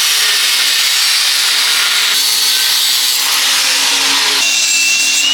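A power saw cuts through a section of turbo exhaust pipe on a twin-turbo Dodge Challenger SRT Demon build, a loud continuous high-pitched grinding rasp that shifts pitch as the blade bites, with no talking.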